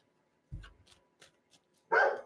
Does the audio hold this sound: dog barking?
yes